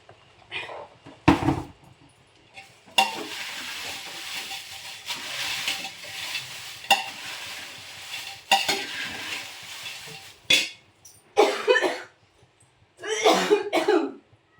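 Dried fish and chillies being roasted in a home kitchen pan, with scraping stir strokes and a soft sizzle, broken by coughs and throat clearing from the pungent fumes.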